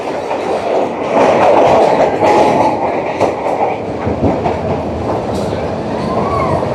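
The Nilgiri toy train on the Coonoor–Udhagamandalam line rolls into a tunnel with loud, close rumbling and clattering wheels, the sound thickening and echoing as it enters, and faint voices in the background.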